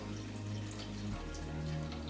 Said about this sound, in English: It is easier if you pour it upside down to start with so that air can get in there